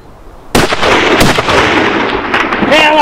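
A single loud rifle shot cracks out during a Dagestan tur hunt in open mountain terrain, with a sharp onset and a long rolling echo that decays across the slopes; faint voices follow near the end.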